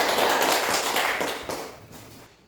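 An audience claps for a presenting group in a classroom setting, a short, loud burst of dense applause that fades out over a couple of seconds.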